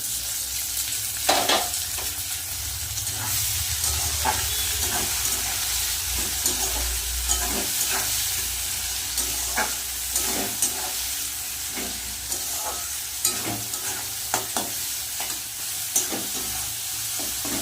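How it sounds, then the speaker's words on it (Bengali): Onion and tomato sautéing in oil in a pan for a spicy fish curry, with a steady close sizzle and regular scraping clicks from stirring throughout. "পেঁয়াজ আর টমেটো কিন্তু ভালো করে কষিয়ে নিয়েছি"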